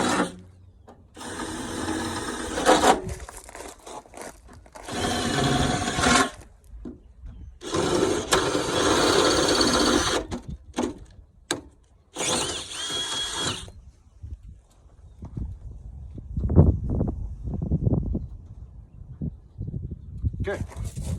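A 23/64 bit drilling a hole for a 1/4-20 rivet nut during a tailgate table install, heard as several multi-second bursts of whirring with brief pauses between, fairly loud and close, with quieter clatter toward the end.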